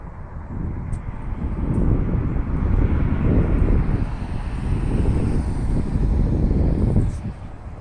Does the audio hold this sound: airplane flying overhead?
yes